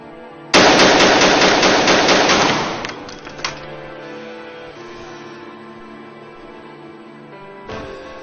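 Rapid automatic gunfire in a dubbed Chinese action film, a loud dense burst of a couple of seconds that fades into a ringing tail, followed by a later faint shot.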